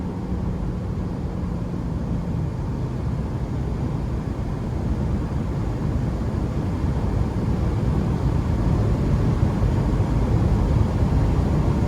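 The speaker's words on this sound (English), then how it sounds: "And wind noise is not overly intrusive." Steady wind and road roar fills the cabin of a 2008 Toyota Tacoma TRD Off-Road V6 cruising on an interstate, a constant low rushing drone that builds slightly toward the end.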